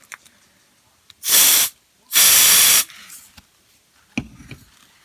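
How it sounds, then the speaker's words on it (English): Axe body spray aerosol can hissing in two short close bursts, the second longer, in an enclosed room, followed by faint rustling. "Go ahead and give it a quick spray."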